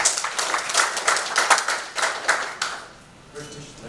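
A conference audience claps for a professor, a fairly close burst of many hands that fades out near the end, with a voice speaking faintly at the close.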